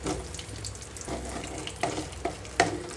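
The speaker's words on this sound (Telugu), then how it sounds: "ఆయిల్ కాగిన వెంటనే ఇందులోకి తాలింపు గింజలు అలాగే ఎండుమిరపకాయ కూడా చిన్న చిన్న ముక్కలుగా కట్ చేసి వేస్తున్నాను." Mustard seeds and chopped dried red chilli fry in hot oil over a low flame for an okra chutney tempering. A steady sizzle runs throughout, broken by scattered sharp pops and crackles.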